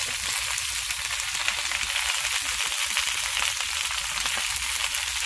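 Pork fat frying in a pan outdoors over a burner for cracklings and lard, a steady, close, dense sizzle and crackle that holds evenly throughout with no talking.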